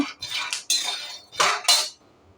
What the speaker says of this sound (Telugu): ఇప్పుడు ముందుగా పల్లీలన్నీ వేయించుతున్నాను